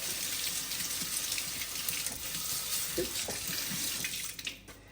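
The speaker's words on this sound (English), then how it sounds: "So just going to rinse those out a little bit." Diced onions for pico de gallo are rinsed under a running kitchen tap, a steady hiss of water splashing into the sink with a few soft knocks, close by and without speech.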